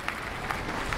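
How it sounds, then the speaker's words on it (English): Applause sound effect from the cooperative cooking video game PlateUp!, a faint, short patter of clapping with light pulses. "Fireworks. Applause."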